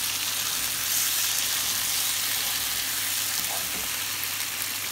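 Fish pieces frying in a pan with red pepper sauce and a tablespoon of water as they are stirred in, a constant loud sizzle close by with faint stirring, no talk.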